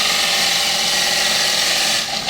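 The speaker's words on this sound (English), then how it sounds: "Speed the lathe up. Remember, as fast as possible, fast as the wood will allow." A wood lathe spins a bowl blank at high speed, giving a loud, steady whirring hum with a continuous hiss of cutting that runs throughout and eases slightly at the very end.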